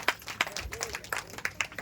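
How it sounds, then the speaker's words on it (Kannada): Short burst of audience applause for prize winners at a student and parents quiz event, a quick run of uneven, scattered claps close by. "ಒಂದು ಚಪ್ಪಾಳೆ ಮೂಲಕ ಅವರಿಗೆ ಅಭಿನಂದನೆಯನ್ನು ತಿಳಿಸಿ"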